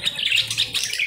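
Diamond doves calling among caged birds at a bird market, a steady run of soft, bright chirping calls close by, with no talking.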